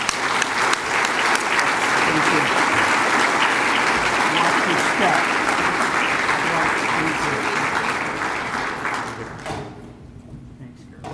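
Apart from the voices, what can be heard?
audience applause at annual dinner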